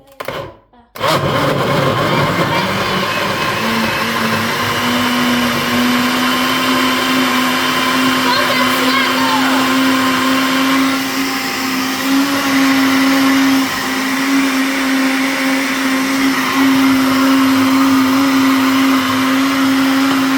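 A blender whirs loudly and steadily after a brief clatter at the start, its motor droning on without pause, with faint voices beneath.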